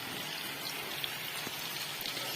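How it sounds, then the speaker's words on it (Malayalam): Heavy rain pours outside, heard as a steady, dense hiss of drops with a few sharper taps close by, no voices. "അപ്പൊ പുറത്ത് നല്ല മഴയാണ് കേട്ടോ."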